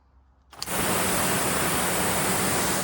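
AVA Evolution P80 pressure washer in narrow spray mode bursting on after a moment of quiet, then a loud, constant rushing hiss of water spray that holds steady to the end.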